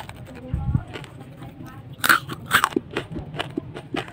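Crisp bites into a crunchy fried sausage snack, several sharp crunches close to the mic with soft chewing between them.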